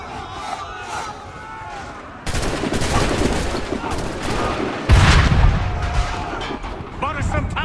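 Battlefield gunfire in Assassin's Creed 3: scattered musket volleys and crackling shots over shouting troops, swelling into a louder, denser barrage midway, with a heavy boom near the end.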